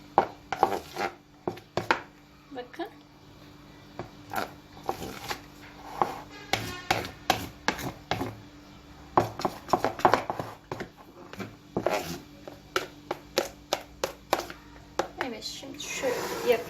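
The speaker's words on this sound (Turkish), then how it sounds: "İyice şöyle karıştırıyorum" A spoon stirs two-colour cake batter in a bowl, making quick repeated scraping and knocking sounds with some clinks. A person talks over much of it.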